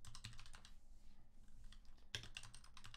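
Fast typing on a computer keyboard during a live game stream, a steady patter of close key clicks with one sharper louder strike midway, no talking.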